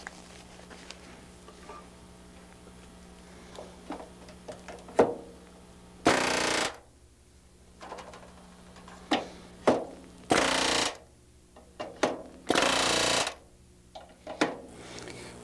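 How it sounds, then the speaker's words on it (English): Pneumatic rivet gun driving rivets into a Vans RV6 aircraft fuselage in a workshop, heard as several loud, sharp bursts of a few seconds each among smaller taps and clicks, with no talk. "I'm ready to rivet this on."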